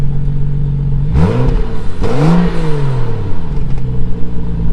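An Estoril Blue BMW 335i engine idles loudly up close, then gives two quick throttle blips with rising and falling revs before settling back to a steady idle rumble.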